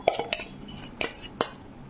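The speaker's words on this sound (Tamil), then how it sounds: "அப்படியே சேர்த்து மிக்ஸ் பண்ணிக்கலாங்க." A utensil clinks against a bowl while melted dark chocolate and butter are mixed into brownie batter, giving a few sharp, close metallic taps spaced irregularly over a quiet background.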